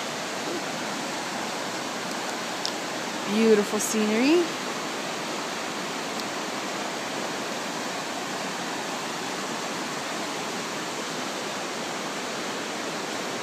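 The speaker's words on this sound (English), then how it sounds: "give you guys some more of the river here." River at Kanmangafuchi Abyss in Nikko rushes steadily with nearby waterfalls, a constant broad wash of flowing water throughout, with a brief spoken remark early on.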